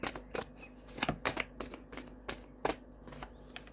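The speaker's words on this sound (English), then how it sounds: "Animal guide rune cards." Animal guide rune cards get shuffled up close, a run of quick papery riffles and slaps in uneven bursts, fairly quiet with no voices.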